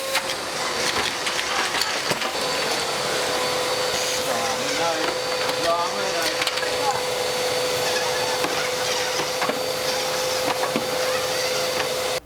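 A shop vac runs steadily for the whole stretch, a constant loud whine with a strong steady tone and rattling, scraping debris noise as it cleans up a mess indoors; there is no clear talk.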